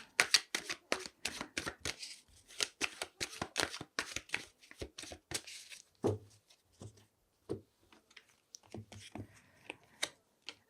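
Tarot cards being shuffled in quick rapid bursts of riffling and slapping, close and crisp, then slower scattered card taps while someone speaks.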